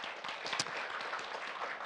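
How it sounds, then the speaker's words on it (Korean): Steady applause from an audience at a Jeungsando ceremony, a dense even wash of many hands clapping at moderate distance with no speech over it. "박수를 부탁드리겠습니다"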